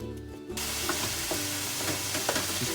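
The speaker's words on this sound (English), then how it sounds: "Just cooking up the beef here" Ground beef frying in a pan with a steady, close sizzle and crackle throughout, broken by occasional light scrapes of stirring.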